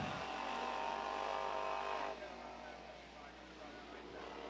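Race karts roar around the racetrack at a Wild Thing Karts event, a steady engine drone that fades after a couple of seconds and then builds again, while a commentator talks over it.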